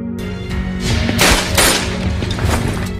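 Gunfire in a war film about Dutch troops, loud bursts of shots with crashing impacts over a dense roar of battle, filling the whole stretch.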